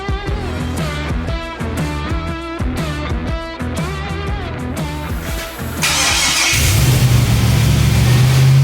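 A Jeep XJ with an LS V8 swap cranks and fires, then revs hard in repeated loud bursts through a newly fitted exhaust before settling into a steady, heavy roar, close and alone with no talk.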